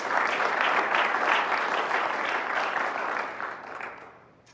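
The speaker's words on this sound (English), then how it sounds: "So let's give a round of applause for all of that." Audience applause fills a banquet hall, a dense, steady wash of many hands clapping at once that holds strong and then gradually thins and fades toward the end, with no speech over it.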